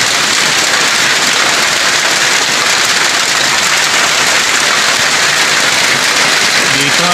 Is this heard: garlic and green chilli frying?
no